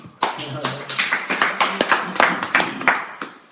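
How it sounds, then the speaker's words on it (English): A small audience claps at a talk on psychological differences between men and women, producing distinct, uneven hand claps that rise and fall in short bursts, close and moderately loud, with some voice beneath. "Let's give a round of applause."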